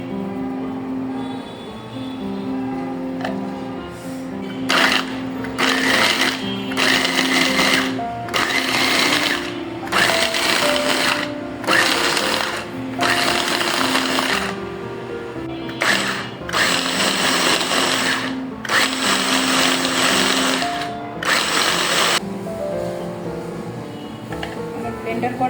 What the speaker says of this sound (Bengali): ছিঁড়ে আমি ব্লেন্ডারের মধ্যে দিয়ে দিব।